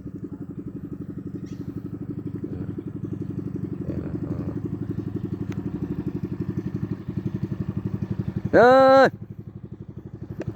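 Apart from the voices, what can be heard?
motor boat passing on river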